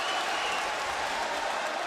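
Large arena crowd applauding and cheering in a steady, dense wash of sound that stays loud and even throughout, with no distinct voices rising above it.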